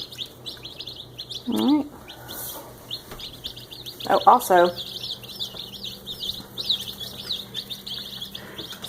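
Red Rock hybrid chicks peeping in a brooder, a steady stream of high, rapid chirps, with a few louder calls standing out and a person speaking briefly over them.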